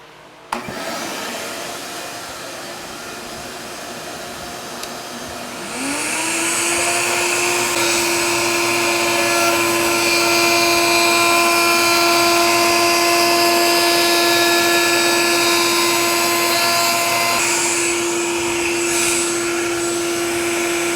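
Wood router cutting a small round-over edge on a board for a cat scratching pad: the motor whine starts, climbs in pitch and holds loud and steady, with cutting noise riding over it.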